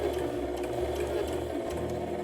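A sewing machine runs steadily, stitching across a jacket front band to the seam allowance on a McCall's 8011 fall jacket, a continuous close mechanical whir with even rhythmic needle chatter and no talking.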